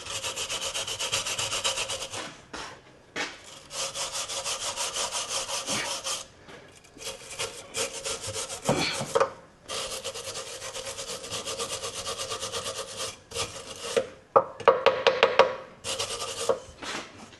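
Wire brushing on the rusty chassis cross members of a Land Rover Defender, loud close scrubbing strokes in long repeated bursts with brief pauses, then shorter choppy scrapes and small metallic rings toward the end.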